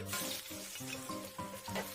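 Ginger slices fry in hot oil in a wok during a beef stir-fry, giving a steady, close sizzle with tonal music underneath.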